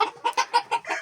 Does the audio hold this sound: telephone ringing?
no